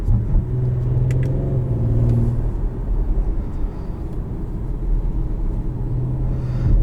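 A 2022 Audi SQ5 with a twin-turbo V6 and aftermarket exhaust drones steadily from inside the cabin on a test drive, a low engine rumble with a humming tone that swells early, fades and returns near the end.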